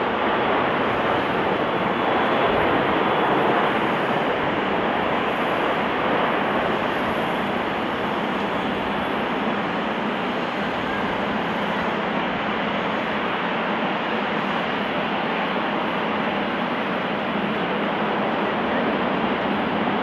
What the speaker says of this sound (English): This Airbus A340 landing too fast due to a flaps issue, forcing it to land without flaps.